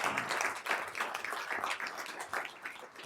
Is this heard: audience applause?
yes